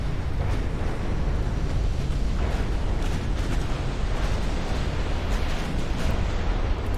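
Battleship exploding in the naval combat game Ultimate Admiral Dreadnoughts, a dense, steady roar of rumbling blast and crackling debris that stays loud and continuous without a clear single peak, with no talking.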